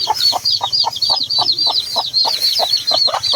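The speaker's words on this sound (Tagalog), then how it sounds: "Ayan, may manok. May naligaw na manok." A chicken clucks steadily in a rapid, rhythmic series of short calls, fairly close, over a backdrop of chirping birds.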